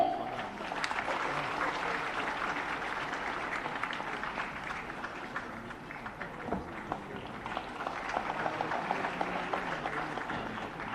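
A crowd at a book launch event in Coimbatore breaks into sustained applause as a memento is presented, broad even clapping that holds for about eleven seconds at moderate level.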